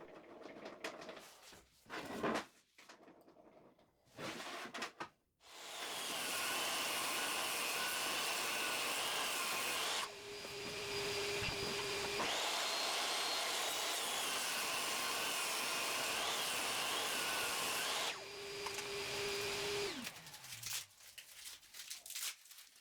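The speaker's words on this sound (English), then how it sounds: "To get a nicer glue up, I run both of them through the table saw." A table saw rips 2x4 boards in a woodshop, its motor spinning up with a sharp start and then holding a loud, steady whine, with the blade's pitch dropping and biting as wood feeds through in two long cuts before winding down.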